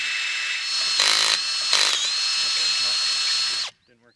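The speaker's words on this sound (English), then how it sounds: "I like to pre-drill the hole" A power drill with a high-quality cobalt bit pre-drills a hole in a wooden hip board for a high tunnel, whining steadily at close range with two brief louder bites before stopping abruptly.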